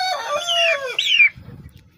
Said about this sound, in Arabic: هو ده الديك طبعا، والاتنين التانيين فراخ.